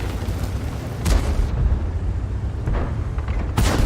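Heavy cannon booms from a T-44-100 tank in a tank video game hit twice, a few seconds apart, over a continuous low engine rumble.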